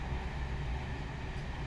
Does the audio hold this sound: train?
yes